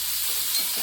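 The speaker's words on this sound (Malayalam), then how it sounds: "ഇനി നമുക്കിതൊന്ന് വീണ്ടും ഇളക്കി കൊടുക്കാം കേട്ടോ." Ivy gourd stir-fry is stirred in a pan over a medium flame, giving a short, soft, close sizzle and scrape with no talking.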